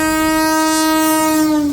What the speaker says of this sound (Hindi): स्पीड देखिए इस ट्रेन की।